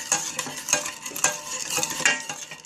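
Spoon scraping and stirring coconut milk in a pot as it heats toward a boil, quick repeated strokes with a faint sizzle, close and without speech.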